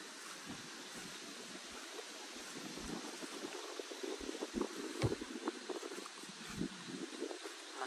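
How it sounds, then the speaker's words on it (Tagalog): Wind gusts across a microphone outdoors at a lakeside campsite at night, a steady broadband roar with low rumbling buffets that swell and ease, constant throughout and with no talk. "Mahangin talaga dito ngayon."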